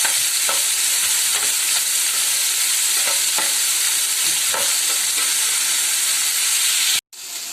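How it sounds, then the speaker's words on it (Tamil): Mixed vegetables sauté in oil in a kadai with a steady, close hiss and sizzle. Stirring clinks come every second or so, and the sound cuts off briefly near the end. "போட்டுட்டு ஜஸ்ட் எண்ணெயிலே அது எல்லாமே நல்லா வதங்கணும்"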